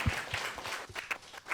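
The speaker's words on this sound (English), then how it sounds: "If we could give them a round of applause." Brief round of audience applause at a justice innovator recognition workshop, scattered claps from a modest crowd, fairly quiet and short.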